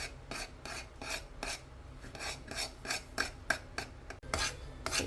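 Graham crackers being mixed into a dessert mixture, with a repeated scraping, rubbing rhythm of strokes, close and fairly quiet, with no voices.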